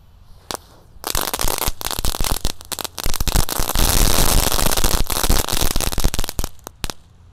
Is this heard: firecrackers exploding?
yes